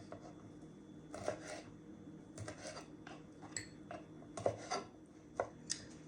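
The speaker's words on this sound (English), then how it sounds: "We're going to roughly chop it." Raw shrimp chopped roughly with a kitchen knife on a cutting board, giving quiet, irregular taps and knocks spread over several seconds against a faint room hum.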